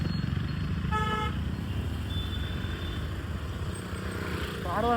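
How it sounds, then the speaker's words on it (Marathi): Traffic jam in the Khandala ghat with a car horn tooting briefly among steady engine and road noise, and another horn rising near the end. "पूर्ण एवढं ट्रॅफिक जाम केलंय ना आज खंडाला घाटात"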